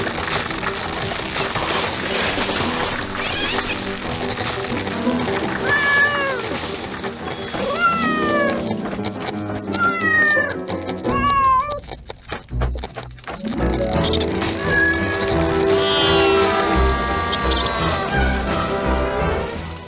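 Barsik, a cartoon cat, lets out several rising meows over busy animated music and effects, with a crash in the middle before the music resumes.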